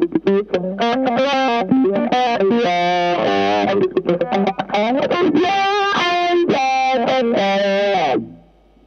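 An electric guitar plays funky chord stabs and sliding riffs through a Leo Nocentelli Mardi Gras CryBaby signature wah pedal, which sweeps the tone in strong vocal-like swells. The playing is loud and close, with no echo, and stops abruptly near the end.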